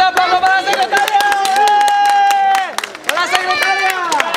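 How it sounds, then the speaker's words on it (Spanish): Applause and cheering from a crowd at a town council meeting in Manzanares, dense clapping throughout with loud shouting voices riding on top and a brief dip near the end. "¡Un fuerte aplauso para la secretaria!"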